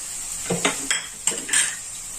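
A spoon scraping and knocking against a pan while a ground spice mixture of coriander, cumin, chilli powder and garam masala is stirred, several distinct clanks and metallic clinks over a faint background hiss, no talking.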